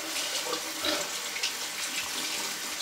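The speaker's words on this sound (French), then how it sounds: "Je vais faire mouiller le blaireau." A tap runs to wet a shaving brush before lathering shaving cream: a steady close rush of water with slight splashing changes, fairly loud and continuous, with no talking.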